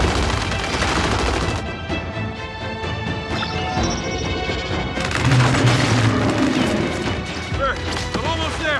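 Dense gunfire and grenade explosions in the shooter game Gears 5, loud continuous crashing blasts and bursts of automatic fire, with voices shouting partly masked in the chaos.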